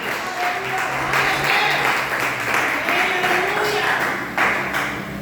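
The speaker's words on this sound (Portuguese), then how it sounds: "Aplauda ao Senhor Jesus!" A church congregation at a family worship service claps steadily and loudly for several seconds, a dense wash of applause with faint voices mixed in.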